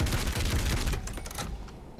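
Full-automatic combat shotgun fire from Doom Eternal, a dense, loud, rapid burst of booming blasts for about a second, then a few scattered shots and lingering rumble.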